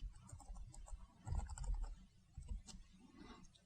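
Keys clatter on a computer keyboard in short irregular bursts, close and fairly quiet, with brief pauses between runs of strokes and no voice present.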